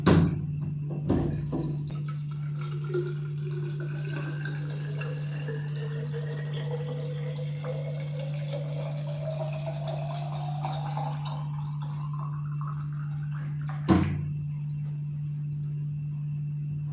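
Water runs from a tap into a container in a late-night home setting, a steady stream whose pitch rises as the vessel fills, with a brief clunk near the end.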